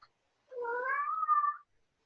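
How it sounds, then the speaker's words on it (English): A kitten gives a single drawn-out meow with a rising-then-falling pitch, close and clear against an otherwise quiet room. "my kitten is chiming in with her opinion"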